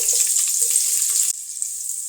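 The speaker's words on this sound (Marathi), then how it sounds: "त्याच्यामध्ये मी आपण कांदा जो कट करून घेतलाय तो टाकून घेऊया" Chopped onion frying in ghee for a mushi fish biryani, a bright steady sizzle that drops to a quieter crackle partway through, close to the pan, with no talking.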